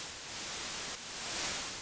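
The auGEN X noise generator app puts out white noise, a steady broadband hiss that holds through the whole stretch with a slight level sweep, alone with no talk.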